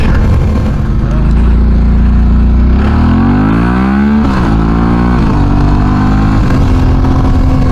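A motorcycle on its first ride after a top end engine rebuild, engine loud and close as it revs and shifts through rising and falling pitches, with heavy wind rush throughout.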